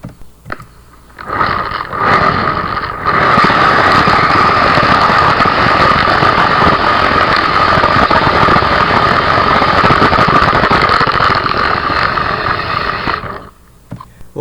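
A small RC car built from a converted RC airplane drives at speed, its high-pitched electric motor whining loud and steady for several seconds, with no talk over it.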